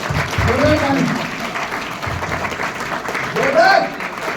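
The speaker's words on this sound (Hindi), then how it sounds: "एक बार जोरदार गुरु जी के लिए जोरदार ताली, जोरदार ताली" An audience at a direct selling seminar applauds for the guru, clapping rising and falling under a man's loud speech that runs over most of it.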